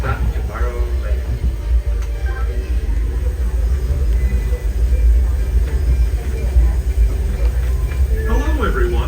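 The Disneyland Railroad train rumbles steadily along with a low, continuous drone while a voice speaks over it.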